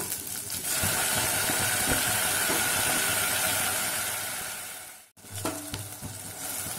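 Tomatoes and small shallots frying in a pan for keerai sambar, a dense steady sizzle that fades out, then a short clatter and renewed frying, close by with no one talking.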